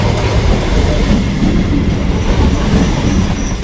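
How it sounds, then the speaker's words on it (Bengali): Budge Budge–Sealdah early-morning local train running, heard from inside the carriage as a loud continuous rumble with rhythmic clickety-clack of wheels on rail joints. "বাড়ি থেকে সকালের প্রথম বজবজ শিয়ালদা লোকালে উঠে পড়লাম"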